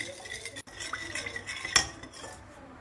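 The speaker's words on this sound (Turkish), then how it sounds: "Eklemiş olduğum malzemeleri kaşıkla iyice karıştırıyorum." A spoon scrapes and clinks against a bowl while stirring sugar, cornstarch and vanilla together, a few quick metallic taps and light swishing at close range.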